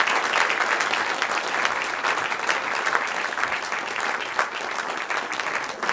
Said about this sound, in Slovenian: Prosim vas še za en aplavz za vse nastopajoče in prijemnike zahval.